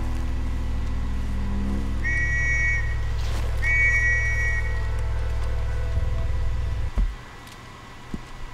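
Two short, clear two-note whistles from a player character in the video game Red Dead Redemption 2, heard over a steady engine-like drone and ambient game sound; no one speaks.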